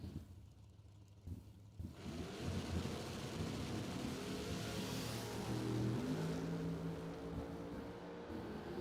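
Drag racing Chevy II and Chevy Camaro at a bracket race, engines roaring and revving from a distance, a loud, sustained rising drone that builds after a quieter start and stays strong to the end.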